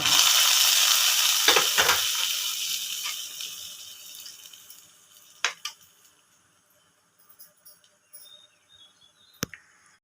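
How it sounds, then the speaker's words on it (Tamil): Mustard seeds, cumin and curry leaves hit hot coconut oil: loud crackling and sizzling at first, fading down over several seconds, with a few sharp clinks and pops scattered through the quieter end. "கொஞ்சமாக தேங்காய் எண்ணெய் விட்டு கடுகு ஜீரகம் ஒரு வரமாக கருவேப்பிலை தழைச்சிட்டு"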